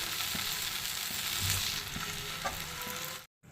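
A dosa fries in plenty of oil on a hot pan at home, giving a steady, close sizzle and crackle with brief louder spits around the middle before cutting out near the end.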